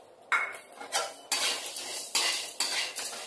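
Coconut pieces dropped into a dry pan for roasting in a protein-rich curry without onion or garlic: five or six sharp metallic clatters and scrapes, close and fairly loud, each fading quickly.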